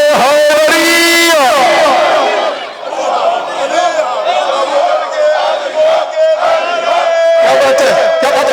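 A crowd at a religious gathering raises the Naara-e-Haideri chant, with loud massed voices shouting in unison, dipping briefly, then swelling again with continued chanting and cries.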